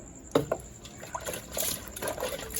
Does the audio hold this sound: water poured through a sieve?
yes